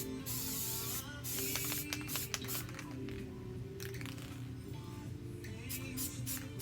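Spray glue hissing from an aerosol can onto a cosmetic organizer, with steady close bursts across the whole stretch and a few faint clicks and handling noises.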